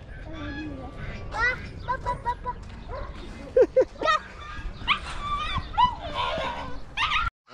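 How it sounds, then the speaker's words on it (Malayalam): Huskies fighting at a goat farm in Al-Ahsa: a burst of yelps, whimpers and sharp barks comes in uneven clusters, close and fairly loud, with voices in the background. "അതാ ഹസ്കികള് കടി കൂടുന്നത്."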